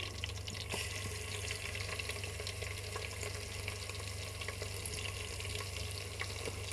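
Ginger and garlic sizzle in hot oil in a pan for potato pulao, a steady close frying hiss with small crackles and pops, and no talk.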